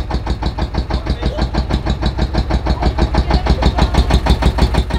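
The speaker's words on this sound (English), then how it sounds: "here we go, engine on" A fishing boat engine in Batanes, Philippines turns over and settles into a steady, chugging idle, with a rapid regular pulse throughout, loud and close.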